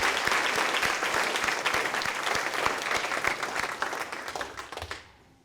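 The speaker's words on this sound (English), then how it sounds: "Applaud the poet." At a high school poetry slam, an audience applauds a poet with close, dense clapping and distinct individual claps, holding strong before tapering off and stopping near the end.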